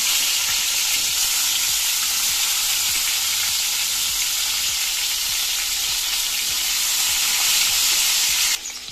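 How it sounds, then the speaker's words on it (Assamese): Pieces of pointed gourd (potol) frying in hot mustard oil in a wok give off a constant, loud, close sizzle with a fine crackle throughout, briefly dipping at the very end; nobody speaks. "এয়া মই পটলকেইটা ভাজি ল'লোঁ।"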